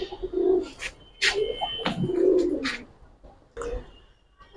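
Giribaz and coloured pigeons coo in soft, repeated low calls with brief pauses between them, heard close by in a loft with small rustles in the background.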